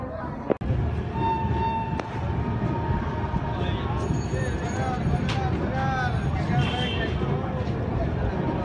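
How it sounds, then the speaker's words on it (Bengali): At night the Kolkata Jammu Tawi Express pulls out of Gaya Junction with a steady, loud rumble of rolling wheels and carriages, a few sharp clanks, and faint voices in the background. "গয়া জংশন ছেড়ে বেরিয়ে যাচ্ছি রাত্রিবেলা"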